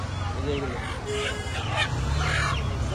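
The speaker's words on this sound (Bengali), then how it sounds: "হাঁস মুরগি বিক্রি হচ্ছে এখানটায়, কত হাঁস মুরগি পায়রা কবুতর বলে তারা" Ducks and chickens squawk and cluck among crowd noise at a Bangladesh market poultry stall, scattered bird calls mixed with nearby voices and a low, steady hum of market bustle.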